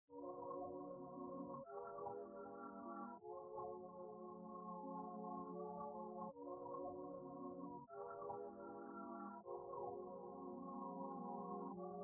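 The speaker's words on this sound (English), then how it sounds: "It is this textured sine one shot" A textured sine one-shot synth plays a layered chord progression, steady sustained chords changing every few seconds, smooth and mellow with no processing, loud and alone with no talk.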